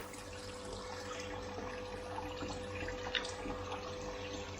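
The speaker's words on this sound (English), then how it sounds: "Awesome, it's leaking everywhere." Water leaking from a DIY aquarium canister filter makes a steady, moderately loud trickling and running-water wash throughout, with a faint pump-like hum beneath and no talk.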